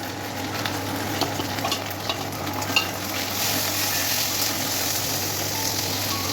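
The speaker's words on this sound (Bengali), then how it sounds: "তারপরে দেওয়া হলো রসুন পেস্ট" Garlic paste sizzles with fried onions in a frying pan, a steady close hiss with occasional stirring clicks, with no talk over it.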